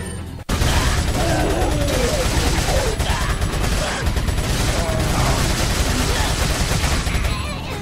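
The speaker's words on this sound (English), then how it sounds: "Grenade!" Dense gunfire and a grenade blast in Resident Evil 4 Mercenaries, a loud, continuous roar of shots and explosive noise that starts abruptly after a short gap and stays heavy throughout, with game sounds layered over it.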